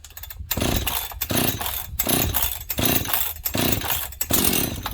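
A Husqvarna 61 chainsaw sputters into life on fast idle, its loud two-stroke engine revving in repeated bursts with brief gaps, close up and with no talking.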